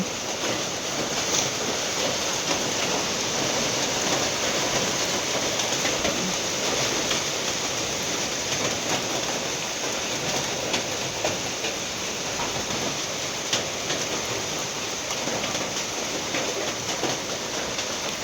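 Heavy rain pours down at night in a steady, dense roar that never lets up, close and loud throughout.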